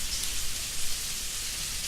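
Steady rain falling as a dense, even hiss with faint patters, close and continuous with no voices.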